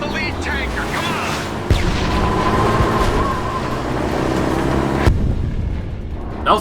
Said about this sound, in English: That was a loud gunshot.